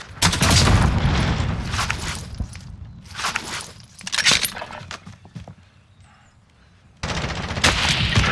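Heavy bursts of gunfire and booming RPG explosions erupt in a Call of Duty Warzone match, loud and close, with rapid shots, a quieter lull, then a fresh barrage.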